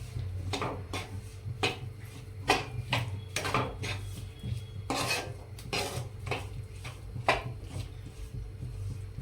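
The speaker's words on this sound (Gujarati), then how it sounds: "ધીમા તાપે આપણે આ રીતના શેકવાનું, જ્યાં સુધી ખાંડ અને દૂધ બળી ના જાય ત્યાં સુધી" Coconut, sugar and milk are stirred and roasted over a low flame in a kadai, with a spoon scraping and knocking against the metal in irregular close strokes against a low background hum.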